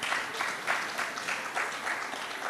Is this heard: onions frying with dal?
no